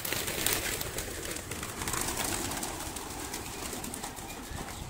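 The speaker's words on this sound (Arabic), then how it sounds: "طبعا دي حمامة غربية كانت جاية على الحمام اللي عندنا" A pigeon held in an aerial mist net coos softly amid steady outdoor hiss and rustling, with no talking.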